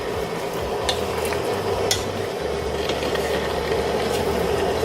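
Meat being stirred in a pan while cooking et sote, giving a steady close scraping and sizzling bed with a few sharper utensil clicks against the pan.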